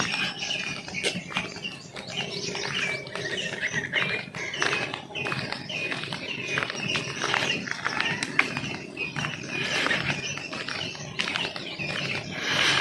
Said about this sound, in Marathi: आता शांत बसू आपण, पक्ष्यांचा आवाज बघ किती येतो.